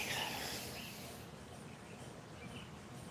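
A few faint, high bird chirps through a steady outdoor hiss, distant and sparse.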